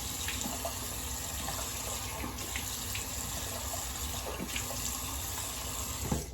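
Water runs steadily from a sink tap while a British Gillette no. 58 razor is rinsed, a continuous close splashing hiss with small clinks and shifts in the stream.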